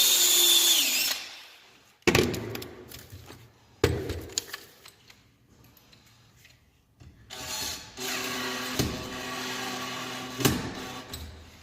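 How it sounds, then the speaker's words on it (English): A power drill whirs in short bursts while pre-drilling a hole in a wood cap rail, with a sharp clack between runs and a longer steady spin near the end, close by. "I'm going to pre-drill this."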